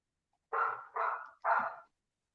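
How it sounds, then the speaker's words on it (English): A dog barks three times in quick succession, each bark loud and close, with silence before and after and no one talking. "What kind of dog is that, Maria?"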